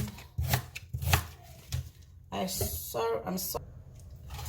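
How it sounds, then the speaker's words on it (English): Ginger, onion and spring onion are chopped on a board, a run of quick knife thuds, first spaced and then in faster bursts, with a person talking over the chopping. "I'm going to chop everything. Ginger, onion, spring onion."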